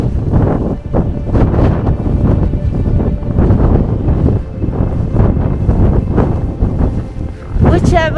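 Extreme gale-force wind buffeting the microphone on a ski slope in Andorra, a continuous loud roaring rush with gusty surges throughout and a brief voice near the end.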